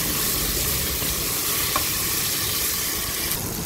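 Garlic frying in hot cooking oil at the start of a pork curry, a loud dense sizzle crackling steadily and close throughout, no voices.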